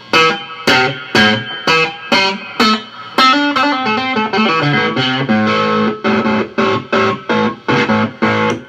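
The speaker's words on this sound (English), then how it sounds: "here's the Fender 63 reverb pedal" Twangy three-string cigar box guitar strums through a Fender '63 reverb pedal and a cranked amp with mild distortion, heavy reverb wash, choppy single hits at first, then a busier run of notes with lingering echoes.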